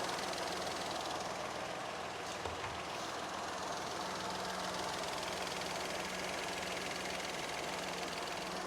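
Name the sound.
Peugeot 208 radiator cooling fan running with engine idling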